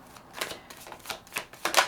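A deck of tarot cards being shuffled close by, a string of crisp riffling bursts and clicks in an uneven rhythm, with no talking.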